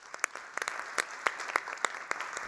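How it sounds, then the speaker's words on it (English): Small audience at the 2022 SME Assembly session on supply chain security claps for the panelists. The claps are sparse and uneven, with distinct individual hand slaps standing out over a thin patter. "I think we can make a big applause to our panelists."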